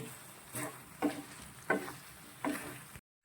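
Cauliflower pieces being stirred into masala in a pan for chilli gobi, with three or four distinct scraping strokes over a soft sizzle, close and fairly quiet, then a sudden cut to silence.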